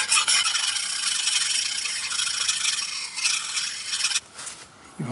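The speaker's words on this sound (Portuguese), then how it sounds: "E vamos voltar para a lixa." Sandpaper rubbing on a Stratocaster guitar neck, a continuous close rasping scrape in steady back-and-forth strokes that stops near the end, with no talking.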